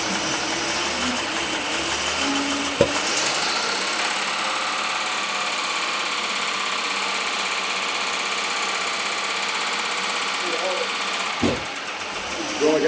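A Jaguar XJS engine runs steadily and loud up close, a sustained droning hum that holds for the whole stretch, with a couple of sharp knocks or clicks partway through.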